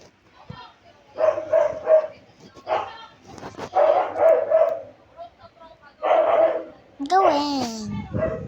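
Cartoonish dog barks in the Toca Boca video game, several bursts of yapping and bow-wows spread across the clip with a whimpering yip near the end, fairly close and clear.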